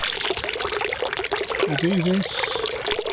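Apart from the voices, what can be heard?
water poured onto the head of a stone kappa statue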